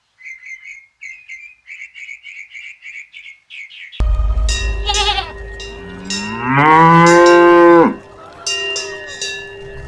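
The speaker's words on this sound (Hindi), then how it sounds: "मैं तुम्हारे लिए वीआईपी गाय लाया हूँ।" A cow lets out a long, loud moo up close, after a run of rapid bird chirps and amid a busy farmyard din, in an animated story about buying a cow for Eid al-Adha.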